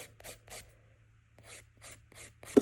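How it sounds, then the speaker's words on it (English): Rhythmic scraping strokes of a 180 grit nail file worked around the edge of a natural nail, several short bursts in quick succession, close and fairly soft, with a sharper tap near the end. "I always like to go back over again with my 180 grit file around the natural nail"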